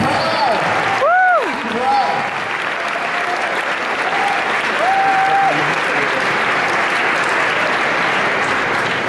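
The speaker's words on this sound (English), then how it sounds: "Let's give ourselves a round of applause." An audience at a Video Games Live concert in Vienna applauds, a dense steady wash of clapping that carries on for several seconds while a voice speaks briefly over it.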